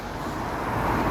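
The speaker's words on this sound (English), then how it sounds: "A few cars as well, but nothing too bad." Steady, broadband roadway noise from cars passing on a nearby road, a continuous even wash with no distinct single vehicle standing out.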